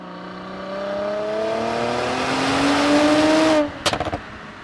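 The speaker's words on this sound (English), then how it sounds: "I hope the microphone picks up the exhaust note" A Mercedes C43 AMG exhaust rises as the car accelerates, its pitch climbing steadily through a gear before cutting off, followed by a brief burst of crackling pops.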